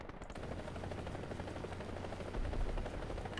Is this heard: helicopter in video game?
yes